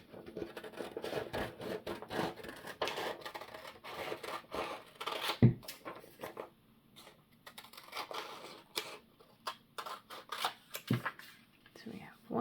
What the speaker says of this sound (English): We're just going to cut this into 4 quarters.